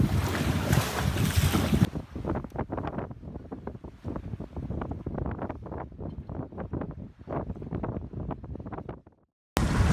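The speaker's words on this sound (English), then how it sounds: "See the water smashing behind us under the sea wall." Choppy lagoon water smashes and slaps under a sea wall in strong wind, a dense run of close, irregular splashes over steady wind rumble, beginning and ending with loud microphone wind buffeting.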